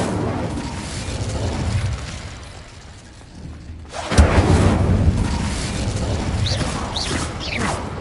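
An Incendio fire spell goes off with a sudden heavy burst and roar after a quieter stretch, then a sustained rushing blaze with crackles, loud and close.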